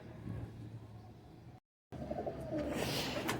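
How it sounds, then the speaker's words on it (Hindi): A female pigeon held for inspection coos in low, soft, throaty notes, close by over faint background noise, with a short silent break midway. "ये अगला कबूतर है और ये भी मादा है"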